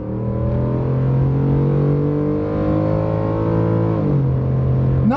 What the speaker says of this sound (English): You can hear that engine going.